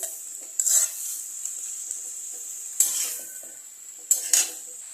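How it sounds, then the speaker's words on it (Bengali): Banana flower with potatoes stirred in sizzling oil: steady hiss of frying with three distinct scraping strokes of a spatula against the pan, close and clear, no talk. "এটাকে একটু ভালো করে আলুর সাথে তেলের সঙ্গে সব কিছুর সঙ্গে মোচাটাকে মিশিয়ে নেব।"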